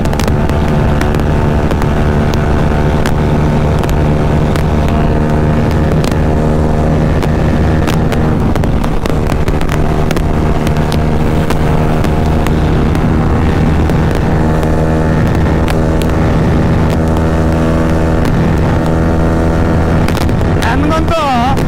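A Yamaha R15 V3 motorcycle cruising at speed on a highway, its engine drone loud and steady throughout with heavy wind buffeting over the microphone.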